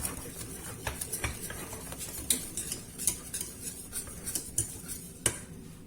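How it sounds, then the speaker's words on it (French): Chocolate being stirred off the heat until it melts for a quick Christmas yule log, a utensil scraping and clinking against a pan in irregular taps and scrapes, close and fairly quiet, with no talking. "Et je vais mélanger jusqu'à ce que tout le chocolat fond."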